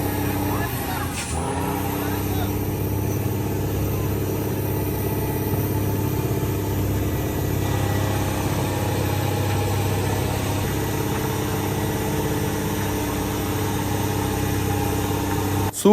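A fishing boat's engine runs hard at high throttle on the open sea, a loud, steady droning roar that fills the whole stretch without letting up.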